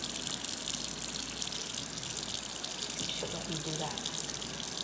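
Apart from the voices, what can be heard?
warm water running from a tap during a puppy bath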